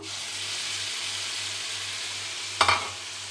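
Ground okra and tomato chutney goes into a hot pan with the stove just switched off. Steady frying hiss and sizzle are heard up close, then a brief clatter of the spoon stirring it in.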